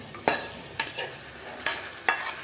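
A spoon stirs steamed dudhiya into cooked mutton in a pot. Four sharp scraping strokes land at uneven intervals over a steady low sizzle, close and clear.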